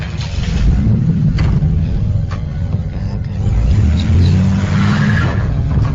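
A car engine revs and rumbles up close as the vehicle pulls away, roaring loudly with rising surges, then swelling again toward the end, with no clear talking.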